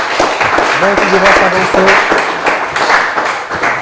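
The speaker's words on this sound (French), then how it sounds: "Merci beaucoup de l'applaudir." An audience claps continuously at a live game event in Lubumbashi, DRC, as a steady patter of applause beneath someone speaking into a microphone.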